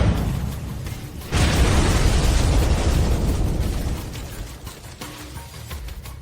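A sudden loud blast from a weapon shot during a battle assault on a city erupts and roars for several seconds, then fades into rumbling debris.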